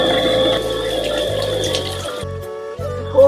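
Water running from a tap into a container, a steady close gush with a low pumping hum underneath, briefly cutting out before resuming, with no talking.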